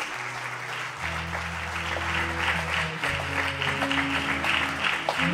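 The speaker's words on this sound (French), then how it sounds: "Nous acclamons le Seigneur." A church congregation applauds and cheers in praise of the Lord, steady loud clapping and crowd noise filling the space over sustained musical tones from instruments.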